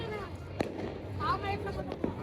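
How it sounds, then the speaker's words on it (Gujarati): Firecrackers burst in sharp, scattered pops at night during the Uttarayan kite festival in Surat, set well back under nearby voices talking and a busy crowd din. "ફરતી પર ફટાકડા ફૂટે જ્યાં જોવો ને"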